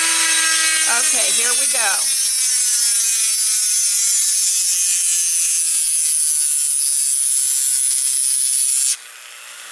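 A power drill bores into glass for making doll eyes, giving a loud, steady high-pitched whine with a grinding edge that runs for several seconds before it drops off. A voice speaks briefly over the start.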